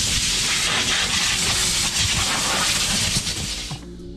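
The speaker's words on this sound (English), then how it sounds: "one last blow of the air hose" Compressed air hose blasting over a Yamaha jet boat's engine bay during cleaning, a loud continuous hiss that holds steady for nearly four seconds before tapering off.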